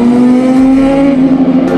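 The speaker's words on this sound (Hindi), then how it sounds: "गाइस सुपर बाइक आ रही है" A superbike, a Kawasaki Z800, roars past on a hill road, its loud steady engine note holding strong and close throughout with a sustained tonal drone.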